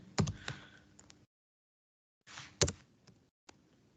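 Typing on a computer keyboard in a quiet office setting, two short bursts of close, crisp key clicks separated by a silent pause, with no voices.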